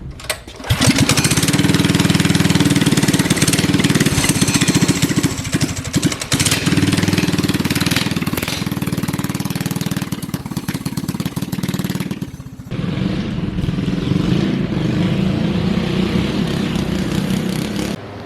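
Small engine of a homemade go kart running loud and close while it is driven, a continuous rough buzzing drone that dips briefly before carrying on.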